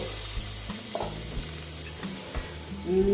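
Spice paste frying in a pan gives a close, continuous sizzle and crackle throughout, with no voices.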